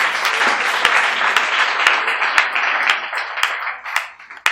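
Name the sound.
congregation applauding in church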